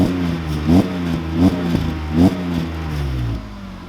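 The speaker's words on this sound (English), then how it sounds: "Give it a rev." A BMW E36 with a new full aftermarket exhaust revs in three sharp, loud bursts that rise and fall over a steady rumbling idle, then settles back to idling.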